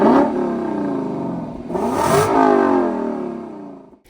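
Lexus LC 500 engine revving hard toward the redline, two rising surges of roaring exhaust with a brief dip between, loud and close before fading out at the end.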